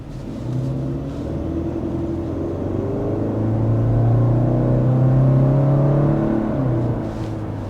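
A 2025 Subaru Outback with a continuously variable transmission pulls away in traffic, its engine giving a steady, smooth rising drone that swells midway and holds at a moderate, even level without any gear shifts.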